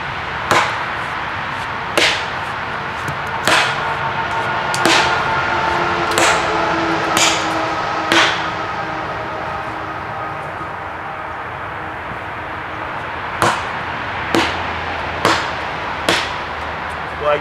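Sharp axe strikes splitting wood, arriving in uneven bursts of several blows, with pauses between groups; crisp, close and loud, with no talking.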